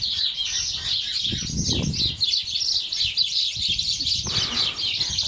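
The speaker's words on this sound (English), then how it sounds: "That's just sparrows." Sparrows chirping outdoors in spring, a dense run of quick high tweets that keeps on without a break, close and lively, with a few soft low rustles and bumps beneath.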